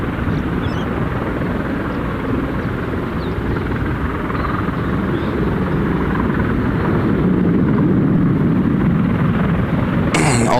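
Aircraft at Gold Coast Airport during an airshow after-party plane-spotting session give a steady, loud broadband engine roar that holds for about ten seconds and swells slightly near the end, heard alone without talk.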